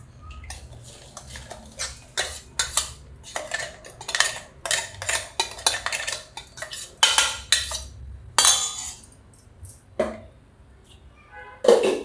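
Dry ground semolina mixture poured into a bowl, giving a series of close, sandy rattles and clinks, with a few louder scrapes against the bowl.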